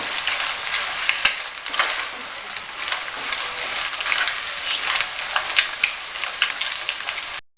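Carrots stir-frying in a pan for chicken fried rice make a loud, continuous sizzle broken by repeated sharp scrapes and tosses of the spatula, with no talk.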